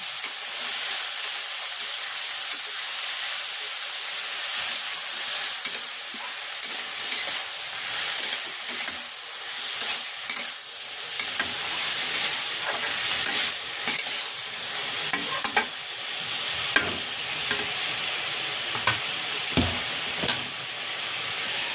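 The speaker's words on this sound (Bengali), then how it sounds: "এই সবগুলো একসাথে নাড়াচাড়া করে ভেজে নেব।" Chili powder and grated ginger, with a little turmeric, sizzle and hiss in a hot pan for Bengali chira pulao, with continuous frying crackle and intermittent scraping of a spatula stirring the mix, no voices.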